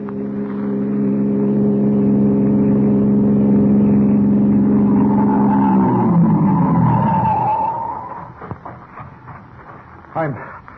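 A car approaches and passes as a radio-drama sound effect, its loud, steady engine hum sliding down in pitch as it goes by and fading to near silence, followed by a few faint bumps.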